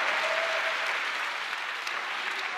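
Audience at a DreamHack Open StarCraft 2 semifinal applauds and cheers, a dense, steady wash of clapping filling the hall, with faint voices underneath.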